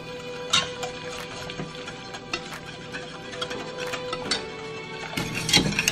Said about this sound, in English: Whisking until free of clumps.